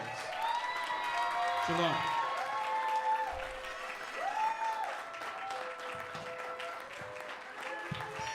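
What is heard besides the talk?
congregation applause for the elders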